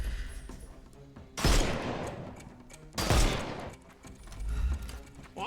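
Enemy gunfire in Sherlock Holmes Chapter One comes as two heavy blasts, each fading into a long decaying echo, with rumbling background noise between them.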